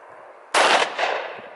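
A single loud, sharp report from a Glock 20 10mm pistol fired outdoors, a sudden close blast with a ringing tail that trails off over about a second, after a moment of quiet background.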